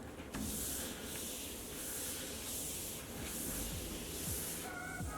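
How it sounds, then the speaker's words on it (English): Antibacterial spray is misted over a medication trolley in a steady, continuous hiss that holds for several seconds, fairly close, with faint thuds and clinks of handling underneath and no talk. "We can clean our medication trolleys using either surface disinfectant wipes or antibacterial spray"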